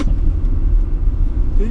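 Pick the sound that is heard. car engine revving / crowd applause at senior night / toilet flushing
car engine revving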